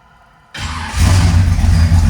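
A 1967 Chevrolet Chevelle with a 427 big-block V8 cranks and catches abruptly, then settles into a loud, close, rumbling idle with a heavy low-end throb.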